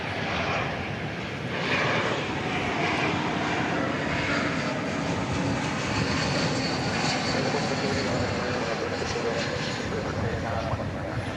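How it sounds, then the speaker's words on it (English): A two-year-old Airbus A350-1000 at DFW Airport produces a loud, continuous jet engine roar that holds steady throughout, heard at fairly close range. "It's a 2-year-old A350-1000."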